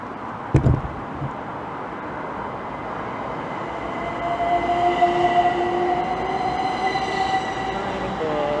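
A Class 377 electric multiple unit passes on the West Coast Main Line at Hemel Hempstead with a steady rolling rumble and rising whine, and faint wheel squeal builds as it goes by.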